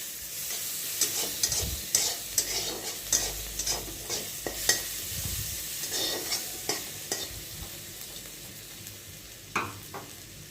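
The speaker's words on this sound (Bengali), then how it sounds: "রসুনটা হালকা করে ভাজা হয়ে গেছে, এবার 1 চামচের মতন পেঁয়াজ কুচি দিয়ে দেবো। এটাকে এবার ভালো করে নেড়ে নিচ্ছি।" Garlic and chopped onion frying in a pan are stirred with repeated scraping strokes over a soft sizzle on low heat; the stirring thins out toward the end, with no talking.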